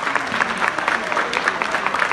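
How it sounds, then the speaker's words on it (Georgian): A crowd at the Premia Iveria awards event claps for a mother of five sons, producing a loud, continuous, evenly textured round of applause throughout the short moment. "დავუკრათ ტაში მას."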